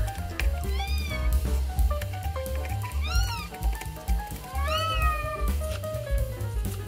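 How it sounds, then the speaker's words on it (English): A single cat meows repeatedly and insistently, close and clear, several drawn-out rising and falling calls over a background of rustling and handling noise. "This cat is not hungry, all she wants is pets."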